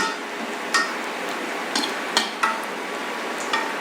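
Dry coconut powder frying in a pan, a faint hissing sizzle broken by several sharp scraping clicks of a spatula against the pan at irregular intervals, close and without talk.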